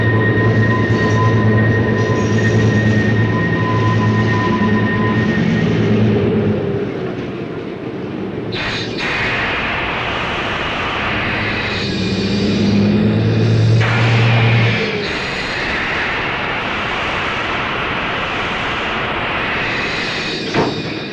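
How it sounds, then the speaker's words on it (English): Air brakes on a 1966 CPR passenger train coming to a halt on the Rossland line, with loud hissing bursts over rolling wheel and car rumble and a few squeals, heard close. "the sound of the air brakes being maneuvered while the train is brought to a halt at this point"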